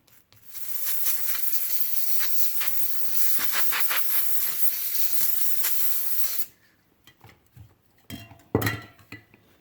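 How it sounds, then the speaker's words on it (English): WD-40 lubricant sprayed onto a brass-geared Zebco 33 Gold Micro fishing reel gives a steady, close hiss lasting about six seconds, followed by quiet clicks and handling noises. "I'll put a little bit of WD on there."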